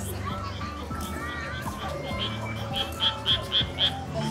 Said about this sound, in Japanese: あ、本当だ、カエルいる。